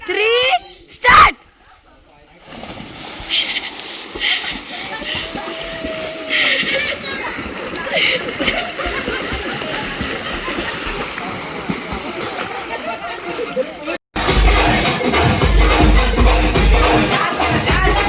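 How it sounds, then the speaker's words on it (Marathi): People jump into a farmhouse swimming pool during a picnic, with loud splashes and churning water close by, children's voices and chatter throughout, and a burst of heavy splashing near the end. "आता थोड्या वेळात स्विमिंग पूलमध्ये उतरायचं आहे"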